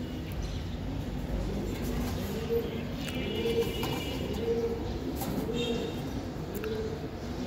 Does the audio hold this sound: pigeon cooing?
yes